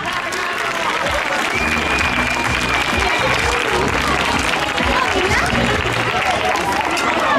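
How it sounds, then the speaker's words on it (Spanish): Steady, dense applause from a large audience at an outdoor solidarity event, loud and continuous throughout with crowd noise mixed in. "Un aplauso."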